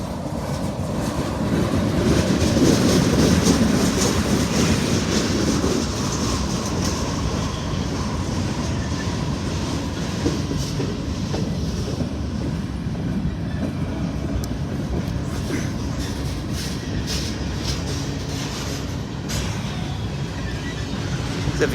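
A long freight train rolls past in Indiana or western Kentucky with a continuous heavy rumble and rattle of cars, loud and close, with faint clicks of wheels over rail joints and no voices.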